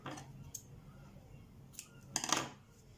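Scissors snip through knitting yarn, a few quiet separate clicks and then a louder double cut near the end, close by in a quiet room.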